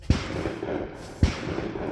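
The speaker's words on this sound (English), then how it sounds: "Let's see if I can get a couple of shots on the shot timer." Two loud gunshots at an outdoor shooting range, fired about a second apart, each a sharp close crack followed by a brief echoing tail.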